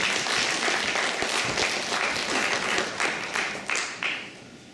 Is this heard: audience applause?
yes